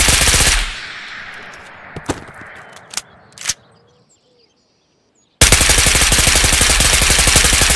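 Rapid automatic gunfire from a rifle fitted with a Shift Foregrip in the video game Ghost of Tabor, loud bursts at the start and end with a few sharp single shots and silence between.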